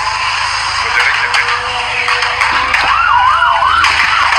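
An ambulance siren wails as it arrives through a crowded street, rising and falling over a loud, chaotic background of crowd noise and voices.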